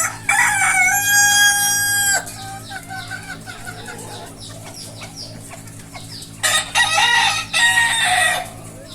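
A 118-day-old red rooster crows loudly and close by, one long crow at the start and another near the end, with clucking and scattered farmyard noises between them.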